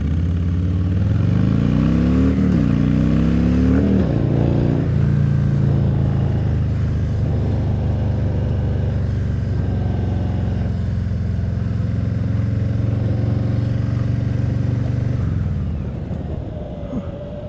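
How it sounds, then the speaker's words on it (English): A Harley motorcycle rides steadily at speed, its engine giving a loud, continuous low rumble with a brief rising rev near the start before the sound tapers off at the end. "So bike is riding straight."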